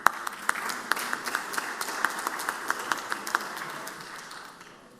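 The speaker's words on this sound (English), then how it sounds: "If you all will give them a round of applause and a warm welcome." Senators and guests applaud in the Mississippi state senate chamber, fairly faint clapping from a group with distinct individual claps standing out, dying away over the final second.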